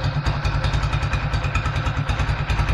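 A Kawasaki W175 motorcycle single-cylinder engine idles close by, a steady, rapid rhythmic thumping and clatter, loud and continuous with no talking.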